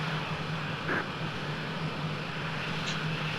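An F-16A jet engine taxiing in the Falcon 4 Allied Force flight simulator makes a steady, even turbine rumble and whine, with no voices.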